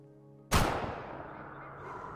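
A single sharp rifle shot fired at a game animal in the hunting game Way of the Hunter on Tikamoon Plains, a sudden loud crack over a low hum that rolls away into a fading echo.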